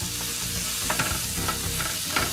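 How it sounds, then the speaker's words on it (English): Onions frying in a tray get stirred, giving a close, continuous sizzle broken by short scraping strokes, with no voices. "Give that a little stir."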